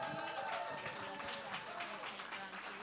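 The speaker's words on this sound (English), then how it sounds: "Would you please stand and cheer if you are associated with GBN?" An audience at a livestreamed talk cheers and applauds, a steady wash of clapping and whooping voices filling the room.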